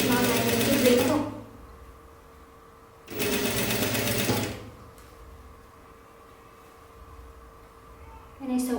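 Two loud bursts of a sewing machine stitching an Ao Dai collar, each about a second or more, separated by quiet room tone, with the start of a third burst at the end.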